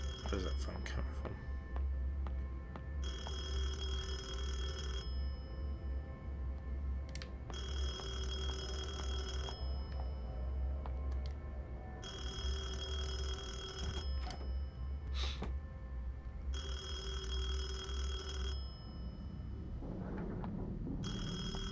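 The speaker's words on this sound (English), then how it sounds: "Where's that phone coming from?" Telephone in the horror video game Detention rings in repeated long bursts with short pauses, loud and insistent over a steady eerie background drone.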